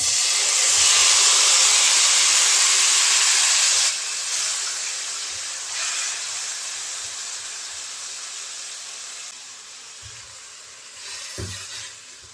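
Tomatoes frying in oil with garlic in a pan, a loud steady sizzling hiss that eases slightly after a few seconds and continues alone with a few faint clicks.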